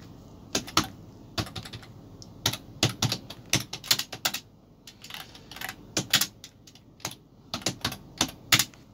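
Keys tapped on a computer keyboard while typing a search query, distinct crisp keystrokes in irregular clusters, close and clear with short quiet gaps between groups.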